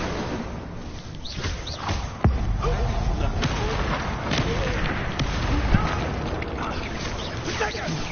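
Explosive spell blasts from the video game Hogwarts Legacy boom repeatedly, with several sharp, loud impacts over a dense, continuous din of game effects.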